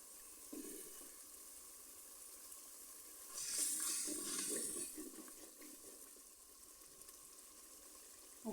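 Spices frying in oil in a pan for a vegetable khichuri, a faint low sizzle with a brief louder burst of hissing in the middle, otherwise quiet.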